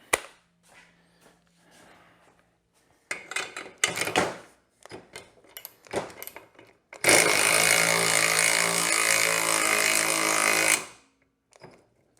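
Hercules cordless ratchet working on a Honda CRF450R dirt bike swingarm, first scattered clicks and short metallic bursts, then a loud, sustained, high-pitched whir lasting several seconds before it cuts off, followed by a few faint clicks.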